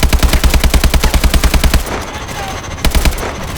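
A gunship's heavy machine gun strafes enemy foot soldiers in Call of Duty: Advanced Warfare: a loud, rapid, rhythmic burst lasting nearly two seconds, a brief pause, then a shorter second burst.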